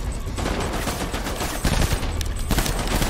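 Rapid bursts of gunfire from shooting enemies in the video game Death Stranding, dense overlapping shots in a continuous fusillade, loud and close for about three seconds.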